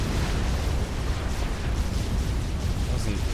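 A Fat Boy unit is destroyed by Photon Cannon fire in Supreme Commander: Forged Alliance on the Pyramid map: a dense, continuous rumble of explosions, loud and unbroken, with a faint voice beneath.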